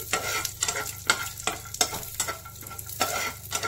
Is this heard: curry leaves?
yes